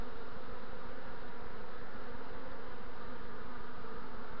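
A swarm of honeybees with multiple queens hums in a dense, steady drone, close and continuous throughout with no voices.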